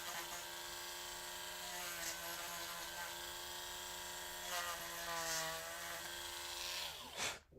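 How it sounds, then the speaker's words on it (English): A steady high-pitched mechanical whir, like a small rotary sanding tool, runs continuously with slight pitch shifts while sanding the boot of a plastic figure, before cutting off at the end. "Just a little sanding in the boot."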